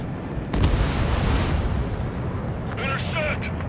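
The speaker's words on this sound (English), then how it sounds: "Mage 2, missile away." A missile launch and explosion in Ace Combat 7, a deep rumbling boom and roar that swells and holds, with radio-style voices talking near the end.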